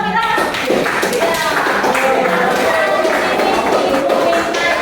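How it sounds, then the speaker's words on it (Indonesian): A classroom group gives a burst of applause, a dense continuous patter of many hands clapping close by that holds steady for several seconds, with a teacher's voice heard over it. "Tepuk tangan dulu untuk kita."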